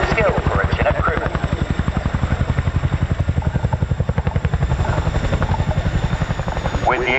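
A Chinook tandem-rotor helicopter lands at the RAF Cosford air show, its loud, rapid rhythmic rotor thudding continuous and close, with a voice talking over it.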